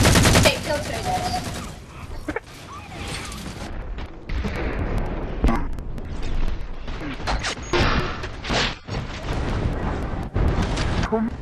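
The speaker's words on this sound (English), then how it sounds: "Who is shooting at me?" Halo video game gunfire, dense bursts of shots and blasts crackling near and far with explosive crashes, continuing throughout alongside occasional voices.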